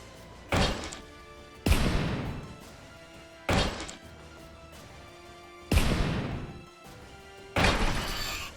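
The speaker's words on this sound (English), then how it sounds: "In come those missiles." Missile strikes on tanks in the OGRE computer game land as five heavy, separate thuds and crashes spaced about a second apart, each a loud broadband impact with a short decaying tail.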